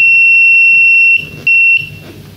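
A piercing, steady electronic buzzer tone from a blind-helper stick's obstacle alert sounds, then breaks into short repeated beeps, loud and close.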